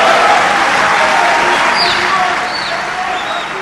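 An audience applauds after a presidential speech in the Democratic Republic of Congo, with dense, sustained clapping and crowd noise that slowly fades while a voice talks over it.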